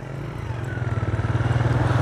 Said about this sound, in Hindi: ट्रैक्टर आगे जा रहा है जी